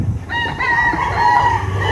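A Pumpkin Grey broodcock rooster crows loudly and close, one long drawn-out call over a low background rumble, with no one talking.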